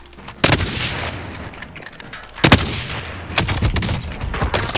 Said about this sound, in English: We're getting shot from there.